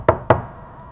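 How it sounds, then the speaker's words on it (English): Two soft knocks on a door, close and distinct, evenly spaced in quick succession, followed by quiet. "A soft knock woke her."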